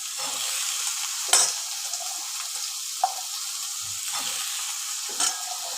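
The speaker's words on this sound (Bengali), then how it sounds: "আলু গাজরটা দিয়ে ভাজা ভাজা করব" Diced potato and carrot frying in a pan for breakfast pasta, a steady hissing sizzle close up with occasional scrapes and clinks of a spoon stirring.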